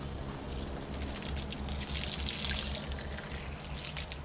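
Filtered water running from a garden hose into a container while preparing a goatfish curry, a steady hissing trickle and splash that continues throughout at moderate volume, with no voices.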